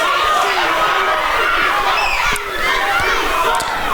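A large indoor crowd fills the air with a dense, continuous roar of chatter and shouts at a bowling event at the OC in Forney, Texas, with voices mixed through it.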